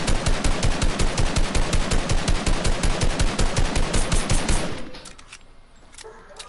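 Rapid automatic gunfire from a PS4 shooter game rattles in a fast, even stream of close, loud shots for several seconds, then cuts off abruptly, leaving quieter scattered game noise.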